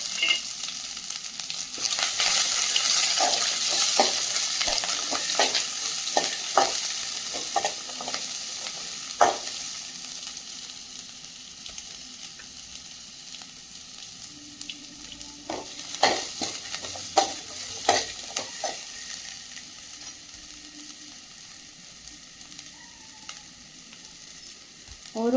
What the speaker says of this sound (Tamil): ஆயில் விட்டுட்டு கடுகு போட்டுக்கோங்க. கருவேப்பிலை